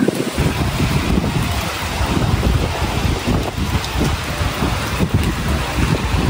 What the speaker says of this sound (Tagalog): Sana po ay tumigil na ang malakas na hangin.